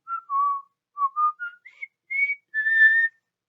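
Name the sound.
person whistling a tune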